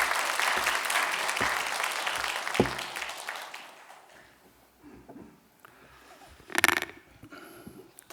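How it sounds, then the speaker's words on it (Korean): Applause rises from the congregation at a Korean church's Sunday combined worship service, honoring the year's final sermon: steady, dense clapping at moderate loudness for several seconds, then fading into quieter room sounds, with a brief louder burst near the end. "감사의 박수를 한번 드리겠습니다."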